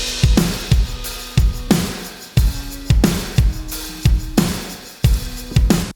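Live-recorded acoustic drum kit, played in steady rhythm with punchy kick and snare hits and washing cymbals, a faint band bleeding into the room behind it.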